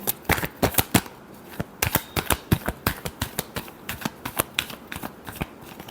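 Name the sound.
shuffling tarot cards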